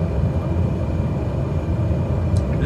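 A light aircraft engine in Flight Simulator 2020 drones steadily at low throttle during a flight from Worcester to North Adams, Massachusetts, a loud, even rumble with no speech.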